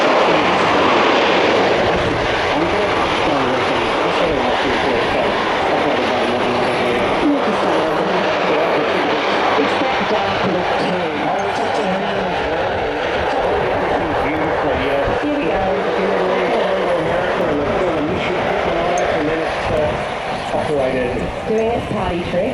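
A C-27J military transport aircraft flies at the Avalon air show, its engine drone rolling loud and continuous for a long stretch while an announcer talks over it.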